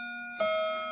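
A Westminster chime mantel clock rings as a single chime hammer drops onto its rod, giving a clear metallic strike over a lingering hum of earlier tones. The note sustains and slowly fades, with no talk.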